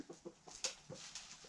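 Backyard chickens on an off-grid Northern Wisconsin homestead cluck inside a shed, a series of short, faint, irregular clucks and chirps close by with no talking over them.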